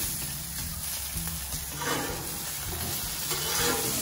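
Filet mignon dabbed with garlic butter sizzles on a Blackstone griddle, a close, continuous frying hiss with soft crackles and occasional spatula scrapes, with no voices.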